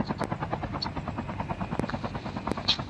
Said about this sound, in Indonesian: Helikopter nih.